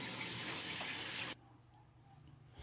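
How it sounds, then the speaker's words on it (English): Water running from a kitchen tap while hands are rinsed, a steady gushing hiss for about a second and a half that cuts off abruptly, leaving a quiet room. "Give me a second, rinse off my hands."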